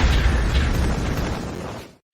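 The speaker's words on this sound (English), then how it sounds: "Here's an explosion." A big explosion sound effect erupts at full loudness and rolls on as a dense, deep rumbling roar for about two seconds before cutting off abruptly.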